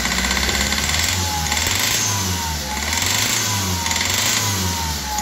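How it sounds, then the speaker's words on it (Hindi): Hyundai i20 engine with faulty Delphi fuel injectors, idling with a steady, loud mechanical ticking and knocking rhythm and a running, slightly missing engine drone throughout. "बहुत ज़्यादा इंजन टक टक टक कर रहा वा"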